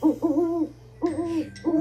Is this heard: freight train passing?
no